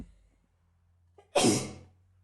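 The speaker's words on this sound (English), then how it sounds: "I am so sorry I can't stop sneezing" A single loud, explosive sneeze bursts out after a quiet stretch with a faint low hum, preceded by a brief sharp inhale.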